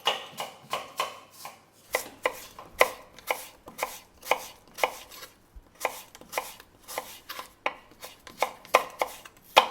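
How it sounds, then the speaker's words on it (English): A knife thinly slicing quartered, cored apples on a cutting board, a quick run of sharp, evenly spaced chops, close and crisp, about two per second with brief pauses, no voices. "quarter an apple, take off the core from the center and thinly slice them and throw them right in"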